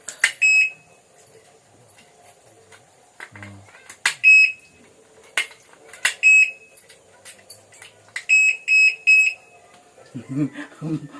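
An alarm lock goes off in short bursts of high, piercing electronic beeps, loud and close with gaps between them, and a voice briefly joins in near the end.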